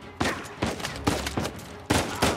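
Bursts of gunfire in the video game Uncharted 4, several loud sharp reports spaced unevenly over a couple of seconds with a low background rumble.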